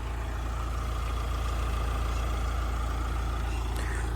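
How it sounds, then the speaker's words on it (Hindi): A Mahindra XUV700 with a 2.2 litre diesel engine idles, heard from outside the car: a steady, low, even rumble with a faint mechanical hum and no revving. "सबसे पहले इस गाड़ी का इंजन नॉइस सुनो बाहर से"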